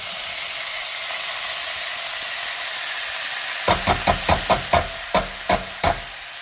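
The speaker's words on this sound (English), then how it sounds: "I'll let that gently sizzle first." Diced onion sizzles gently in frying oil in a pan, ahead of drained beans. A soft, even crackle is heard alone at first, then a quick series of sharp, close taps rings out over the sizzling.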